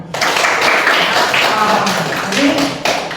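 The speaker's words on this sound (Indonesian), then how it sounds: "Oke, tepuk tangan dulu yang di belakang." Classroom audience clapping hands together in a sustained, loud burst of rapid claps filling the whole stretch, with a teacher leading pupils in a lesson.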